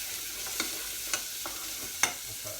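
Onions sizzle steadily in a hot pan, a constant crackling hiss broken by a few scraping stirs of a utensil.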